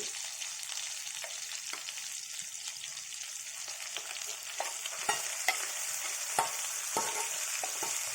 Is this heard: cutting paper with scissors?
no